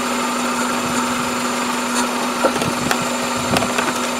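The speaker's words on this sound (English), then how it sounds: "Kind of a, almost like a backfire." 1997 Toyota Camry engine idling with a steady hum, broken by a few irregular sharp puffs and pops like a small backfire, close with no talking.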